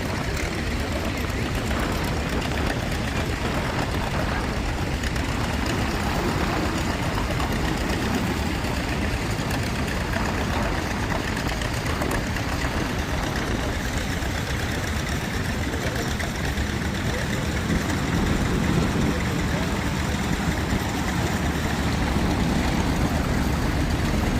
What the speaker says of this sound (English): This little unit going by is another entry by Murray Black. It's a 1950s-ish, the A5 Bombardier.